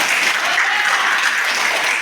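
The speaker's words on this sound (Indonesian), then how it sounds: "Tepuk tangan dulu buat saya." A group claps together in steady, dense applause for a couple of seconds, fairly loud and even throughout.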